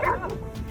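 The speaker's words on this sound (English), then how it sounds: "Even being outnumbered, the dog fought with courage and kept its master's safety the top priority." A livestock guardian dog lets out a brief, close, yelping bark during a fight with wild wolves, sharp at first and trailing into a strained whine.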